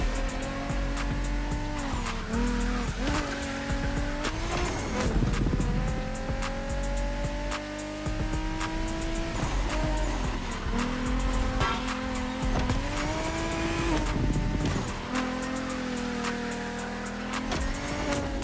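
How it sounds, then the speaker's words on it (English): A pumped-up Toyota Supra A80 racing in The Crew Motorfest, its engine loud and continuous with rising and falling revs through gear changes, and tires squealing during skids throughout. "A pumped-up Toyota Supra A80."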